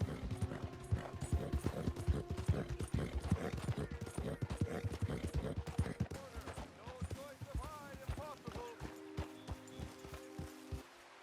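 Rapid, steady clip-clop of horse hooves on hard ground in a video game, close and rhythmic, with a horse whinnying briefly partway through and a soft background hum.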